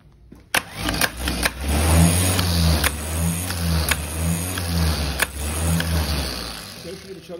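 Same Minitauro 60 tractor engine, under repair for its starter motor, cranks and catches, then runs with a loud rumbling idle close by, with clanks and a voice over it.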